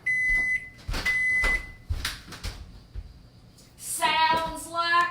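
A kitchen microwave oven that has been melting cheese gives short electronic beeps amid the clatter of cupboards and a door, followed by a louder ringing chime near the end.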